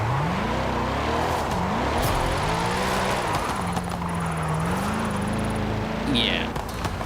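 Corvette engine held in third gear in Forza Horizon 5, a sustained revving drone rising and falling in pitch with throttle changes, loud and continuous throughout, with steering-wheel gameplay noise on top.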